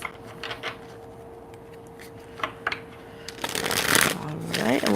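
Tarot cards riffle-shuffled by hand in a quiet room: soft scattered flicks and taps early on, then a dense rushing burst of shuffling near the end, with a low steady hum underneath.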